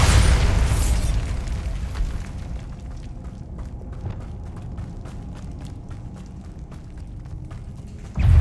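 A Bombarda spell explosion in Hogwarts Legacy erupts with a loud opening boom, then a long rumbling decay of debris and crackles, closing with a sudden burst of noise at the end.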